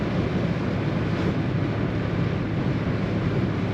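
Steady, loud wind noise roars without letup, a dense broadband rush of air buffeting the soft top of a moving 1967 Ford Mustang convertible.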